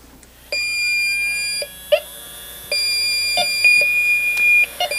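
YELLOW JACKET AccuProbe refrigerant leak detectors powering on and warming up, giving loud electronic beeps and sustained tones from several units that overlap and shift pitch, with short chirps in between.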